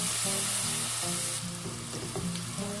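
Sliced onion and ginger-garlic paste fry in hot oil for chole, a steady close sizzle and crackle that continues without pause, with a faint tonal background under it and no talking.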